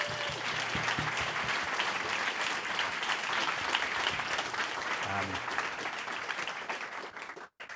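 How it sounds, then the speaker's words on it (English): Audience applause at an open office event, steady dense clapping lasting several seconds before cutting off abruptly. "Can we get one more round of applause for Harry and Jacqui?"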